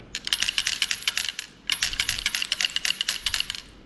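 Two quick bursts of rapid metallic clicking from a speargun mechanism, a ratcheting tick-tick-tick, close and crisp with a short pause between runs.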